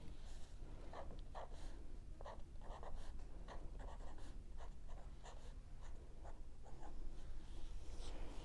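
A pen writes a daily plan on lined notebook paper, with steady scratchy strokes in short bursts and pauses, close and fairly quiet, with no talk.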